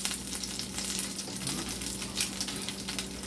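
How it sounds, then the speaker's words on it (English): Water boiling in a pan on the stove during cooking, a steady soft bubbling and sizzling hiss with a low constant hum underneath, fairly quiet and continuous. "This water boiling."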